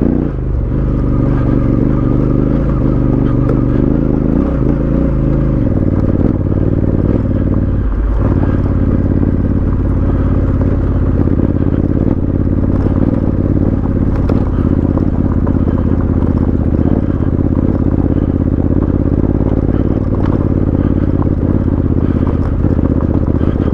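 A Honda CRF1100L adventure motorcycle climbs a mountain track off road in low gears, its engine a loud, continuous close-up drone with rumble and clatter throughout and no voices.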